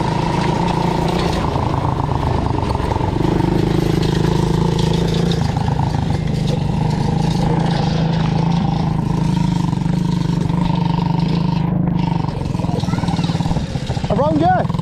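Quad bike engine droning steadily while riding off road, loud and close throughout with a voice talking over it.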